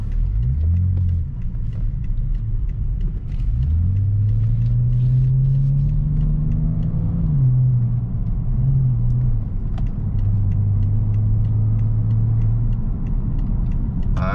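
A BMW 535xi E61 estate tuned with a JB4 to about 370 hp accelerating on an open road, its engine drone rising steadily in pitch, then easing and settling into a steady cruise, heard from inside the car.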